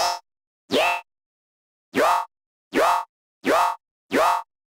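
A synthesized yoink sound effect with a sweeping, vocal-like frequency peak repeats five times, each short bright upward-bending zip separated by silence, loud and isolated.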